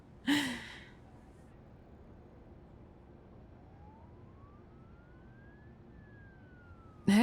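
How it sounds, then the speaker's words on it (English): A faint, distant ambulance siren slowly rises and falls in pitch, with a sharp gasp-like burst at the start and another at the very end. "Can you hear the sirens in the distance? That will be the ambulance."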